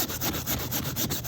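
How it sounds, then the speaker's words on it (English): Coarse sandpaper rubs back and forth on a Zipper wand glide in quick, rhythmic scratchy strokes, close and continuous with no voices. "I'm just going to take the sandpaper."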